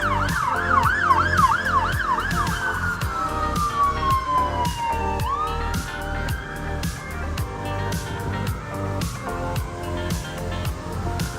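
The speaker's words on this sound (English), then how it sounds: "Oh no, fire engines." Fire engine sirens pass along a London street near Trafalgar Square. Loud, close wails and rapid yelps sweep up and down over steady traffic rumble for the whole stretch.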